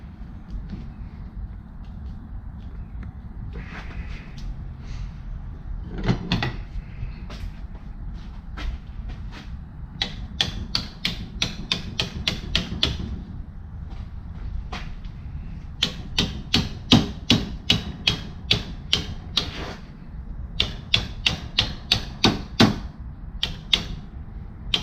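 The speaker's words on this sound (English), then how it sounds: "I'm just gonna take a hammer and fold it over." Hammer striking a metal fan shroud to fold it over, sharp metallic taps coming in irregular bursts and quick runs of rapid blows, fairly close over a low background hum.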